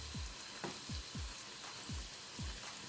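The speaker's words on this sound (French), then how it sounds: "Je laisse dorer les beignets." Beignets fry in oil in a pan, giving a faint, steady sizzling hiss with a soft, regular pulsing, quiet and close with no voices.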